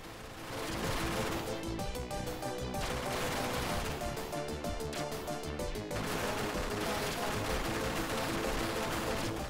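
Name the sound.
gunfire in a shooting video game on Mega SG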